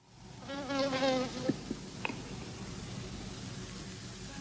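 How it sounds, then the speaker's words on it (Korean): A single housefly buzzes in a quiet film scene, a thin wavering drone that swells and fades over a soft room hush, followed by a couple of faint taps. "초반 10분은 무슨 파리 한 마리 날아가는데"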